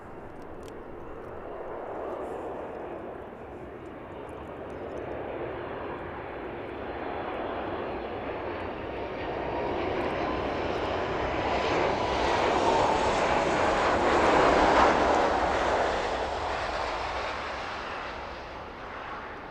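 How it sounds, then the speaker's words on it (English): A passenger jet on final approach into East Midlands Airport, inbound from Gran Canaria in the afternoon, its engine roar steadily building as it nears, peaking loudly, then easing off, with no voices. "Let's have a look at that aircraft on final approach then."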